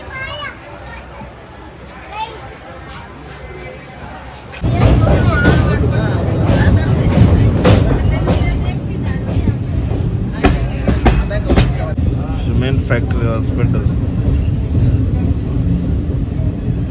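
Inside the sleeper coach of a Hubballi to Tirupati train, a steady loud rumble and clatter of the running train fills the carriage, with people talking throughout.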